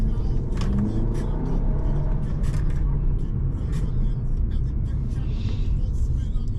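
Road traffic rumbles continuously around a car stuck in a UK queue, with low engine drone and occasional brief noises from passing vehicles, steady and fairly close.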